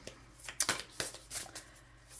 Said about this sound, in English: I'm going to shuffle behind the camera.